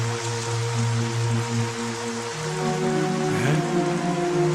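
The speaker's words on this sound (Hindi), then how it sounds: "अच्छी बारिश हो रही है।" Heavy rain pours down in a dense, steady hiss that stays loud and constant, with a low tonal background underneath and no voices.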